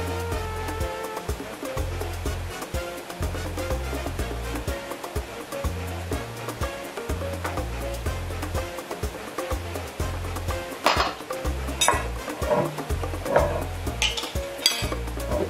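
Cassava cake batter being mixed in a bowl, a continuous wet sloshing with rhythmic scraping and clinks of the utensil against the bowl, close and steady with no talk.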